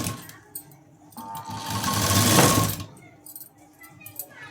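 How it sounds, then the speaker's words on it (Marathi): Sewing machine stitching fabric pieces together with a possible overlock seam, a close whirring run that builds and fades over a couple of seconds amid light handling clicks and a voice. "इथे ओव्हरलॉक करायचं असेल तर या पद्धतीने जोडली तरी सुद्धा चालते"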